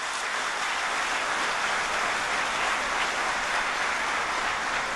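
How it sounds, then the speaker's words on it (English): An audience at a Civil Services Day ceremony applauds the awardees with dense, continuous clapping. The sound is a steady, even wash that holds for several seconds and never rises to a peak. "a huge round of applause for all the awardees present here"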